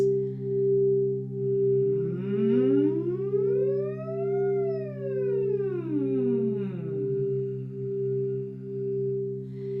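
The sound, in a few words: crystal singing bowls played with voice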